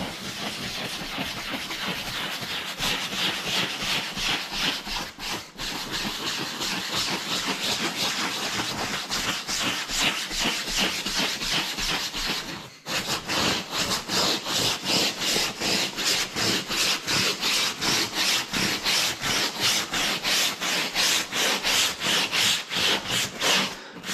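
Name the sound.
rubbing a surface in circles with ox gall soap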